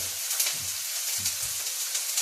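Ginger and garlic fry in a pan for a paneer, spinach and supergreens curry, giving a steady close sizzle with soft low bubbling pops that rise and fall in two brief swells, with no voices.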